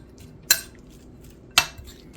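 Two sharp clinks of a utensil striking a bowl, spaced about a second apart, close and clear in a quiet kitchen while food is shifted into a bigger bowl.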